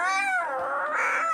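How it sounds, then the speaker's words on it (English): A cartoon cat sings badly in a wavering, strained, yowling tone that bends up and down, loud and close, and holds without a break. "the cat has a terrible singing voice"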